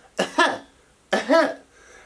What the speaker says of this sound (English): she has this fake cough that she does when she's in her little activity